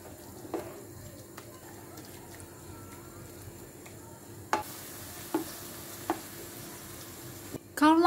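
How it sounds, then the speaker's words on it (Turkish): Minced meat frying over browned onions in a pan, a steady low sizzle with several sharp clicks and scrapes of a spoon stirring, ending in a louder clatter. "Kavrulan soğanın üzerine 250 gram kıyma ilave edip kavurmaya devam ediyoruz."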